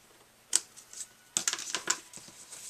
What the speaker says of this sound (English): when you get to the end, just snip it off